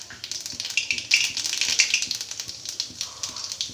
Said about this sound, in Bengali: প্রথমে আমি একটু কালো জিরে ফোড়ন দিয়ে দিলাম